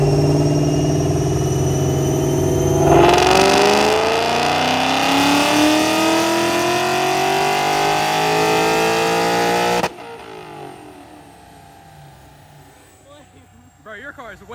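A Gen 1 Ford Mustang on a dyno holds a loud, steady engine drone, then revs in one long rising pull for several seconds before cutting off abruptly. A quieter, low rumble follows.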